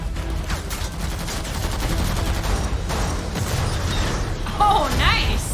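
Loud gunfire from a Marvel Thunderbolts movie trailer, with bursts of shots and booms over dense action music and effects, while reacting viewers talk and exclaim over it.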